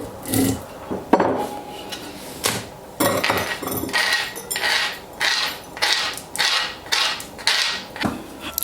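Cloves are pounded into pieces in a small container, giving repeated sharp knocks and grinding scrapes in irregular bursts, close and fairly loud, with short pauses between strikes.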